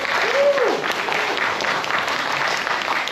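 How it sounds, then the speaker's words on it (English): Applause from a workshop audience cheering on people about to give prepared speeches, a short burst of steady clapping that fills the room. "Give them a round of applause, give them support."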